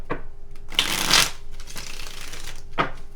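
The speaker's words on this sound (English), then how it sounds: "If you don't want to sit through the shuffle, you can always fast forward." Tarot cards being shuffled by hand, with a few bursts of riffling and slapping separated by quieter handling, close and clear with no talking.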